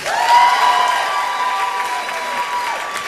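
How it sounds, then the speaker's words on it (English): Audience at a comedy show in Jerusalem applauds and cheers for a comedian taking the stage, a brief burst of clapping mixed with a sustained tonal sound, fairly loud and near. "So everyone give a round of applause to David Kalimnik."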